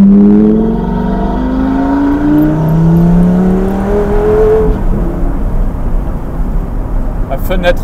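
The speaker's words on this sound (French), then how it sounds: "La fenêtre ouverte quand on accélère, c'est violent aussi." A carbon-bodied supercar accelerates hard with the window open, its engine note climbing in rising sweeps close by before settling into a rougher, steady roar.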